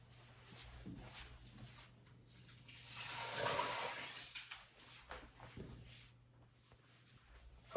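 Water trickles and splashes from an old well, a faint wash of running water that swells in the middle and then fades back to a quiet flow.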